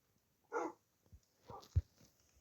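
Puppies in a video game barking outside, a few short yips and barks spaced apart, fairly faint and distant against a quiet background.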